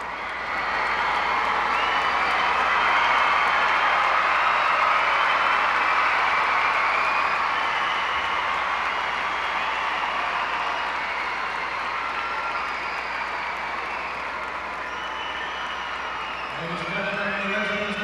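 A huge arena crowd of 17,000 at Copps Coliseum cheers and applauds in a broad, sustained roar that holds steady and tapers slightly, with a low voice entering at the very end.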